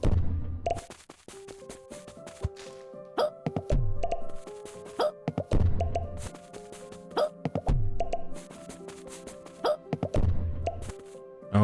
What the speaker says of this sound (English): All you hear is hiccups.